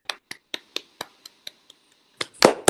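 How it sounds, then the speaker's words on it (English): Video call participants clap into their microphones with about a dozen sharp, evenly spaced claps, then a brief pause and a louder cluster of clapping at the end. "I think we will all turn our mics on and applaud."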